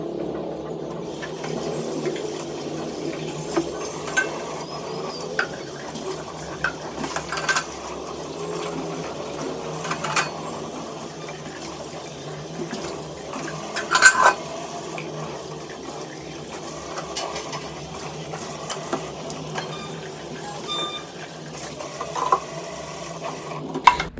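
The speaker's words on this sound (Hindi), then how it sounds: "जो भी बर्तन सुबह के निकले हैं सब साफ़ करके रख रही हूँ" Dishes and utensils being washed in a home kitchen in the morning, with steady running water and intermittent clinks and clatters of pots and plates throughout, moderately close, no talking.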